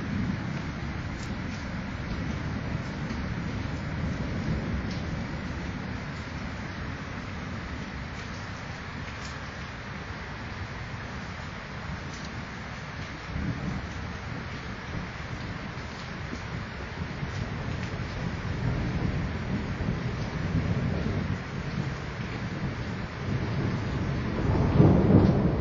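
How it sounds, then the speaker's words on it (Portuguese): A thunderstorm over Mexico City: steady rain hisses throughout while low thunder rumbles roll in the background, building louder toward the end with a deep close rumble. "caindo uma tempestade aqui na cidade do México hoje."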